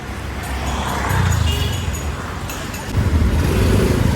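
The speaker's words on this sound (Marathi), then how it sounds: "किती ट्रॅफिक झालं इथे." Busy road traffic in Mumbai's Mulund area, heard from a bike, with engines rumbling and swelling as vehicles pass close by, a few short horn-like tones above the continuous roadway din, and no talking.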